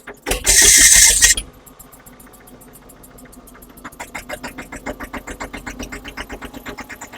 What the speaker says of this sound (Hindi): स्टार्ट करके दिखाओ ये ट्रैक्टर भी।